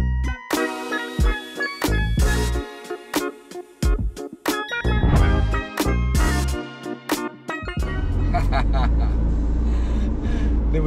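A non-V8 Ford Mustang pulls away, its engine rumble swelling into a low, steady drone after a stretch of loud music and talk.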